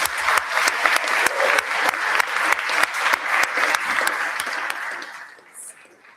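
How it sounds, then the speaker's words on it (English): An audience applauds at a graduation celebration: dense, loud clapping that holds steady for several seconds, then thins and fades toward the end. "Let's give him one more round of applause."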